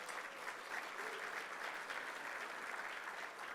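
Steady, sustained applause from an audience at a trade-week event honoring its sponsors, an even roar of many hands that sounds faint and distant, with no voices.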